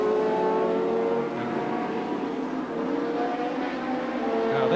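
Thundersports race cars at Brands Hatch in 1985, including a Brabham, roar past with sustained engine drone and rising revving pitches, loud and continuous.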